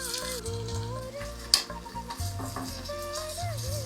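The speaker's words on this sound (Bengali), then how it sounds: "তেল তাতলে পেঁয়াজ কুচি ছাড়ো।" Chopped onion fries in hot oil in a wok, a steady close sizzle with a sharp click partway through and faint background melodic tones.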